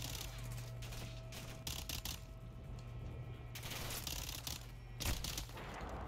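Gunfire in Call of Duty Modern Warfare 2 comes as rapid bursts of shots and mechanical clatter, quite faint, with a louder crack near the end.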